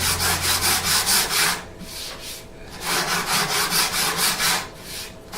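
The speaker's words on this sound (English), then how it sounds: "I'll go back over the whole thing with 80 grit." A wooden electric guitar body is sanded by hand with 80 grit sandpaper in quick back-and-forth scratchy strokes, close up, in two bursts separated by a short pause.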